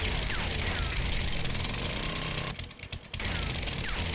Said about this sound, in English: like the drill I'm using right now